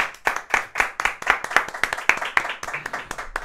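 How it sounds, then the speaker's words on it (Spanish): A small group claps along in a rhythmic pattern, crisp, close and steady, with no voices over it, at an informal Dominican trap music gathering. "Yo quiero un aplauso, un aplauso, un aplauso."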